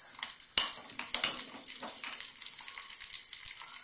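Mustard seeds and cumin frying in hot oil for a tempering, a quiet sizzle broken by sharp pops and crackles, a few louder snaps early on, close and without voices.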